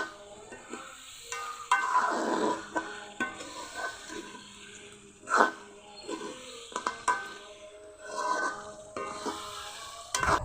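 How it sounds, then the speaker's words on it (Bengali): Country chicken pieces sizzling in a kadai while a spoon scrapes and stirs in bursts, with intermittent clinks of metal against the pan. "মাংসগুলো ভালো করে কষিয়ে নিব, আর কিছুক্ষণ পর পর কিন্তু অবশ্যই নেড়ে দিতে হবে"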